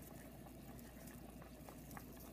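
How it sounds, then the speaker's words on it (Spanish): Water boiling in a pot for Mexican-style noodle soup, a quiet, steady bubbling and simmering hiss with soft irregular pops, heard alone. "tiene que estar hirviendo el agua"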